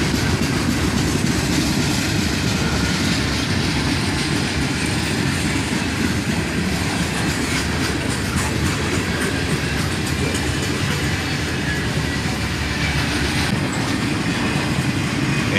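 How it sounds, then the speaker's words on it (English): A CSX freight train hauling old Conrail boxcars rolls past, a loud continuous rumble with wheel clatter that stays steady throughout, no voices. "And check out these old Conrail boxcars here."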